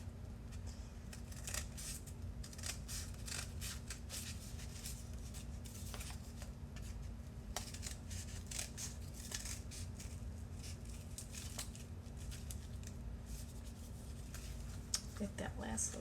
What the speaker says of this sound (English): so I'm going to cut the rest with my scissors.